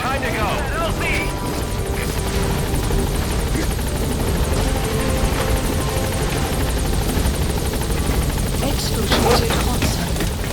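The Pequod helicopter in Metal Gear Solid V arrives at a landing zone, its rotor chopping in a loud, continuous, close drone that fills the clip from start to finish.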